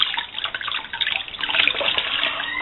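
Water pours steadily from a tap over a chicken's feet to soften them before a poultry show, a continuous close splashing stream with no speech.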